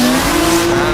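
A 1,030-horsepower Toyota Supra drift car with a B58 engine runs at full throttle at a Drift Masters event in Hungary. The engine roars loud and sustained with a steady high drone, and tire squeal mixes in.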